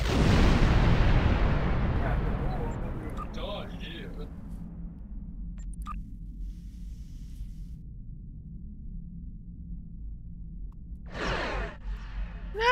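Weapon fire hits a player's ship in Star Trek Online: a loud booming blast that decays over a couple of seconds, then quieter scattered zaps and whooshes over a low hum, and a sharp burst near the end.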